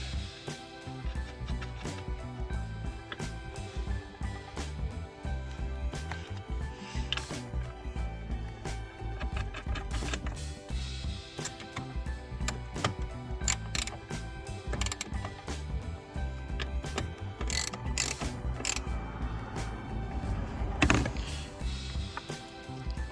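A ratchet clicks in quick bursts of sharp, close metallic ticks while nuts are tightened down onto the fuel filter posts of a Toyota Hiace KZH100, with brief pauses and handling clatter between runs.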